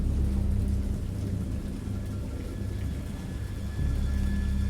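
Heavy rain pours steadily while deep thunder rumbles low and continuous, the rolling boom easing slightly mid-way before swelling again, a full close thunderstorm with no voices.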